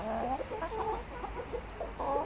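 Hens clucking in a backyard chicken area in summer, several birds making short, uneven clucks and murmurs close by with no talking.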